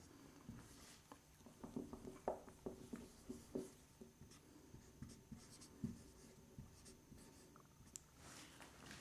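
A pen scratches across paper while a maths integration solution is worked out, in short irregular strokes and taps, close and moderately quiet, with no talking.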